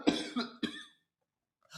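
Two quick harsh coughs close to the microphone, the second following right after the first, then silence.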